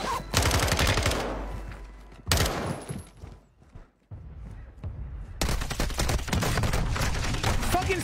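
Bursts of rapid automatic fire from a custom RPK machine gun in a video game, loud and dense, with a short lull of quieter shots and scuffling in the middle before sustained firing resumes.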